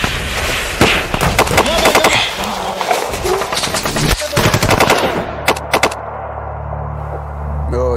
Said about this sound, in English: Right then, the Adam base came upon simultaneous fire from an unseen enemy.